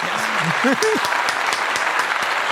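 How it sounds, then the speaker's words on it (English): Applause breaks out on a podcast recorded at the Bella Vista Hotel, a steady patter of clapping with a voice speaking briefly over the start. "Round of applause for the lovely people here supplying us with drinks"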